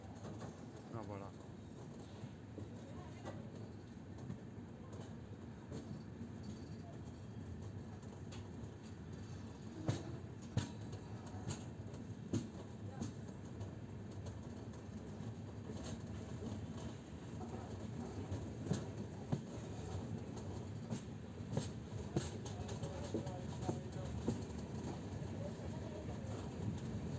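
An Indian passenger train runs on rails on the New Delhi–Mumbai route between Itarsi and Veraval. A steady, muffled rumble is heard from inside the carriage, with scattered clicks and knocks, faint voices, and occasional bird coos.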